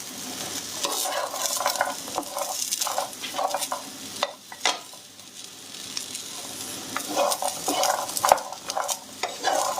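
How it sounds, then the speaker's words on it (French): Peanuts roast in a pan with a little oil for caramelised chouchous, a constant sizzle under scraping, rattling strokes of stirring that come in irregular bursts, close and fairly loud. "vous faites bien griller vos chouchous là"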